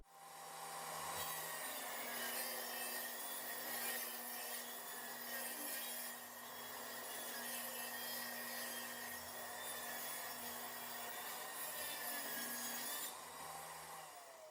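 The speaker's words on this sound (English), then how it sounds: "Now let's take our table saw and set the blade 2 7/8 inches from the fence." A table saw with its blade tilted to 30 degrees rips a 1x4 board. A loud, steady whine and grinding cut run for over ten seconds, close and with no voices.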